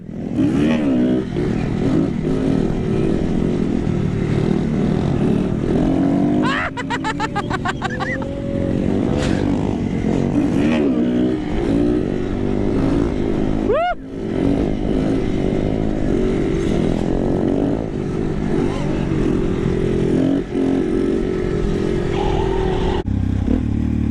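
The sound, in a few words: Suzuki DRZ 400 SM motorcycle revving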